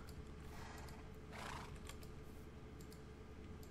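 A horse in the Minecraft video game snorts and neighs while being tamed, one short whinny amid steady game background noise and faint keyboard clicking, with no talk.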